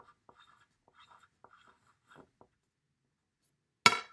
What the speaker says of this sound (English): I'm going to write something like, I love